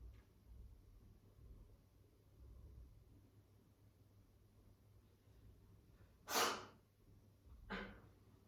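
A single sharp sneeze bursts out over quiet room tone, followed a moment later by a softer breathy snort or second sneeze.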